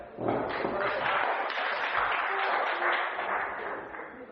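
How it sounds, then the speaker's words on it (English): Steady applause from a crowd at a black belt grading, a dense patter of many hands clapping for about four seconds before tapering off slightly. "Give them a clap."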